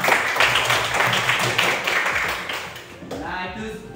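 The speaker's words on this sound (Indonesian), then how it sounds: "Beri aplaus buat Elga" A classroom of students claps for a classmate, brisk close applause for a few seconds that fades as a voice begins speaking.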